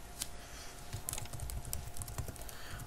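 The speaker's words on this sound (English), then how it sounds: "I'll type in slide 1 on the first one and slide 2 for the second one" Rapid typing on a computer keyboard while entering slide titles in an outline view, a steady quiet patter of close key clicks with no voices.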